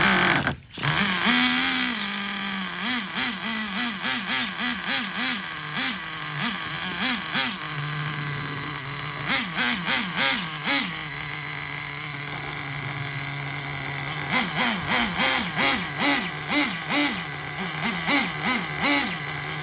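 Traxxas Jato 3.3 nitro RC car engine running close by, a buzzing idle broken by repeated short throttle blips that rise and fall in quick bursts, with steadier idle stretches between them.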